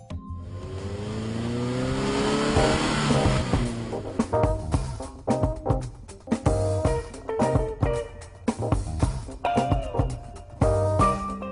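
A beige Toyota Etios petrol car revs up and accelerates, then runs on with uneven bursts of throttle and road noise, close and loud throughout.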